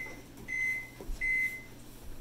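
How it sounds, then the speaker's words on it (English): A microwave oven softening butter hums quietly throughout and gives two clear, evenly spaced electronic beeps, each lasting about a third of a second, close and moderately loud. "now we're going to put our 2 tablespoons of butter in the microwave and soften it for 12"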